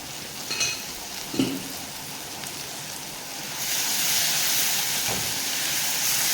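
Tomatoes, onions and green chilies sautéing with salt in a pan for fish kurma, a soft hiss with a couple of stirring scrapes, then the sizzle grows louder and steadier.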